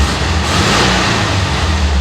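1967 VW Bus air-cooled engine with a replaced vacuum-advance distributor, revving loud and close in a steady, sustained drone.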